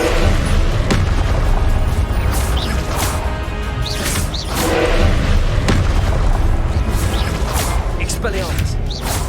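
Fire and blast spells going off in a wizarding video game, a string of heavy booming explosions with rumbling crashes over dense continuous game noise, loud and close, with a voice talking throughout.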